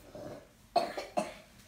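A person nearby gives a short burst of two or three sharp coughs in quick succession, clear against a quiet room.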